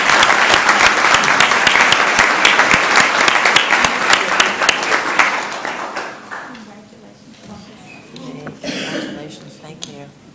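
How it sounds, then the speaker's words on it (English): Applause from the audience at a city council meeting, dense clapping for about five seconds that thins and fades, followed by a few voices talking. "Let's give her another round of applause"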